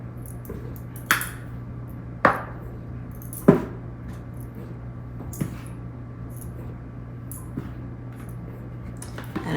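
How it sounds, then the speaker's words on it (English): Wet sourdough bread dough being mixed with bread flour in a bowl, with a few soft squelching thuds spaced a second or so apart over a steady low hum, then quieter scraping. "And I just mix this all together"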